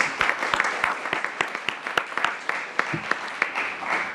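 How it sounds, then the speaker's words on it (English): Modest applause from an audience at a media briefing, a thin scattering of individual claps with distinct, irregular hand strikes, fairly close and moderate in level, with a brief voice murmuring underneath. "let's give Tish, in her absence, a nice round of applause as well"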